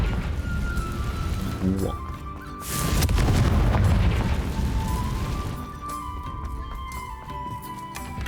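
A Confringo fire spell explodes in Hogwarts Legacy with a deep, roaring boom that swells for a couple of seconds before tapering off, while a voice briefly exclaims over the game audio.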